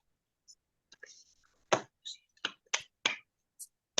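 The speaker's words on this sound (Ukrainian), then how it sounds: "Плескайте, плескайте, молодці" A few children clap in a classroom, sharp scattered claps coming one after another, quiet and close, with faint whispering between them.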